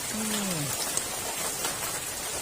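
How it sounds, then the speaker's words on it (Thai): Rain falls steadily behind a house among kaffir lime trees in a forest-like yard at night, an even wash of drops with a brief voice over it. "ฝนตก"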